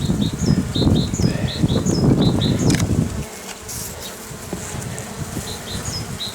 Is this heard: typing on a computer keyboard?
no